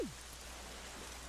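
Rain falls in The Legend of Zelda: The Wind Waker, a faint, steady hiss of drops with a soft low rumble underneath and no voices.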